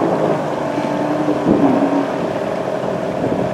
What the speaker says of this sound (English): Getting rescued by some jet boats here, the jet ski.